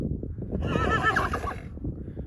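A horse whinnies once, a shrill wavering neigh close by, over soft hoof and ground noise.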